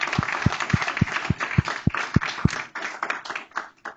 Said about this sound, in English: Let's give all 69 of these students a big round of applause.